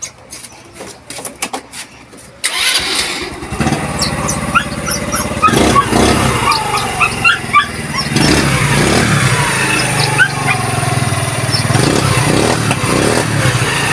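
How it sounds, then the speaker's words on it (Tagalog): A rebuilt motorcycle engine is started after a few sharp mechanical clicks. It catches and runs loud and close with a rough, throbbing idle and occasional revs, and faint voices are heard in the background. "So start na po natin yung motor"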